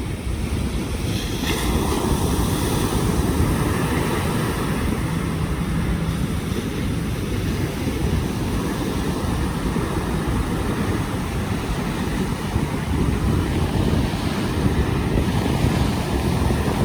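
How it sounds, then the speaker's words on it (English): Rough ocean surf churning beneath heavy wind buffeting the microphone, a loud, unbroken roar of waves near the shore as a big boat rides the swell offshore; no one speaks. "that's a big boat, folks, and it just disappeared behind those waves"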